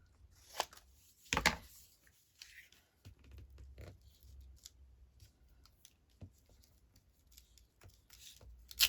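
Scissors trimming paper for a junk journal: a few crisp, close snips and paper rustles, quiet and sparse, with pauses between cuts.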